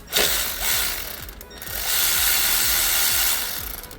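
Hand ratchet with a short 10mm socket loosening a bolt in the engine bay of a 12th-generation Toyota Corolla E210, a rapid close clicking run with a brief pause midway.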